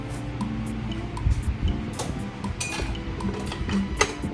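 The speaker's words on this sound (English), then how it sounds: "I'm gonna turn off the heat and scrape this into a bowl" A utensil scrapes cooked potatoes from a pan into a bowl, producing faint clinks and light metallic scrapes in an irregular rhythm over a low background hum.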